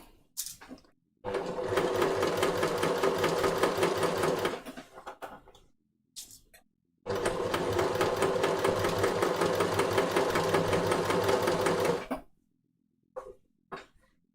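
A sewing machine stitches the placket of a pin-tuck shirt in two long, rapid, even bursts of whirring and clatter, close by, with short pauses and handling noises between them.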